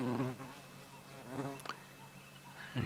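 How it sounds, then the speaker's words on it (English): A cuckoo wasp buzzes faintly and intermittently outdoors on an African wildlife drive, with a few other soft calls and noises around it. "you may just be able to hear a buzzing now and then. It's the cuckoo wasp"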